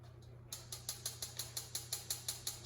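A flour sifter tapped against the side of a mixing bowl, a dozen evenly spaced sharp metallic knocks in a steady rhythm, close and fairly quiet, with no talking.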